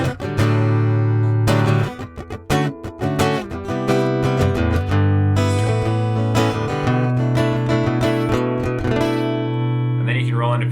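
Fender Acoustasonic Stratocaster guitar on its neck-position A acoustic voicing, strummed chords and picked notes ringing out continuously, close and fairly loud, with sustained overtones and a few pauses between phrases.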